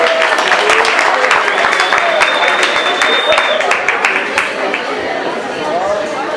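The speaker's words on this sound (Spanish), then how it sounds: "¡Un aplauso!" An audience at a lecture on the climatic and geological history of Bogotá bursts into lively applause, dense clapping mixed with chatter and voices, close and loud, gradually thinning over several seconds.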